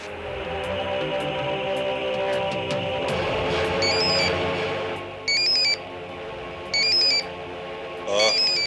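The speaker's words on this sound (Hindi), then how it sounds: "मैं नंबर घुमाता हूँ।" A telephone ringing after a number is dialed, in a Hindi crime drama: two clear electronic ring bursts, then a third starting, over a background music bed with no talk.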